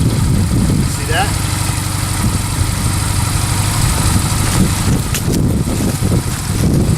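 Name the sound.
motorcycle engine running after being started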